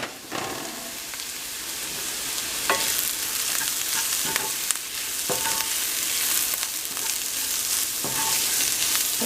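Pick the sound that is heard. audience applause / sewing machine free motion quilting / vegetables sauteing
vegetables sauteing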